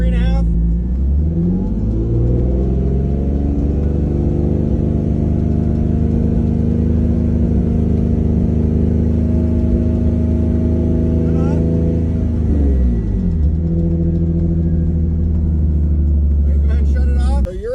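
A car with an aftermarket catback exhaust is held at about 3,500 RPM during a roadside noise check, a loud, steady droning roar that ramps up, holds, dips and climbs again, with people talking now and then.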